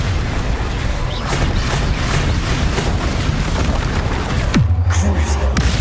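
A Confringo fire spell erupts in Hogwarts Legacy amid dense combat noise, with a thick roar of booms and crackling impacts throughout and a sharp deep blast near the end.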